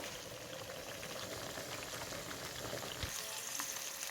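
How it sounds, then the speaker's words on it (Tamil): Bitter gourd fries in hot oil with a steady, dense, close-up sizzle that crackles continuously throughout and has no voices over it. "பொரிஞ்சு வரட்டும்"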